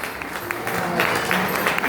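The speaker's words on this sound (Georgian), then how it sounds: "ძალიან ხურვალი აპლოდისმენტები და ოვაციები შეიძლება" Warm applause and ovation from wedding guests for the bride at a surprise celebration, a steady dense patter of many hands clapping close by with a crowd murmur beneath.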